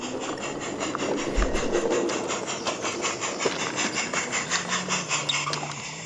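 A light railway train shunts at a small station while dropping off sawn timber, a rhythmic, rubbing clatter of wheels and couplings that steadies into regular beats, fairly close, no voices.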